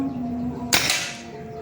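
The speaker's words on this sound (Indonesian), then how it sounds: "Oke, kita lanjut tembakan yang kedua." A single sharp crack of a PCP air rifle shot, a Greyhound Classic T-Rex, cuts through a quiet hum, with a quick hissy decay afterward.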